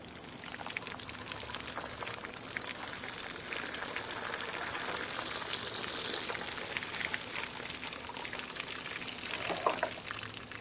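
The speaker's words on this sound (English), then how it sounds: "now I'm gonna try to pour this out real slow like where me and you can see it" Water pours slowly out of a plastic milk jug outdoors, a steady broadband splashing and trickling that stays fairly even for about ten seconds with no talk over it.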